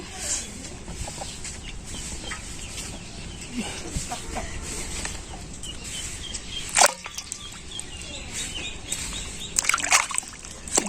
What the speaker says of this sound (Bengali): লাফাইতেছে হাইতেছে লাফে এই মাটিতে পড়ে যেতেছে